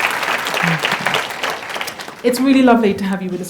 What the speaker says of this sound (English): Can we have a round of applause for Claudia?